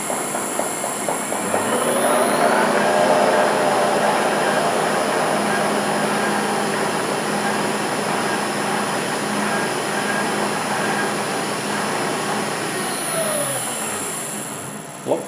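An LT230 transfer box spins up on a test bench, giving a steady mechanical whine and rumble with a rising tone that holds evenly throughout before winding down at the end, with no talk.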